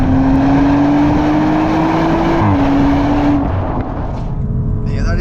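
A 2025 Audi RS4 Avant engine revs hard toward redline, its rising tone climbing steadily before a brief gear-change dip and then easing off, loud and close throughout with road and wind noise underneath.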